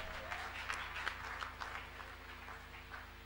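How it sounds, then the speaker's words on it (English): Church congregation clapping and cheering together, a fairly faint, scattered burst of hand claps over a low steady hum, with no clear talk. "Let we clap for her more."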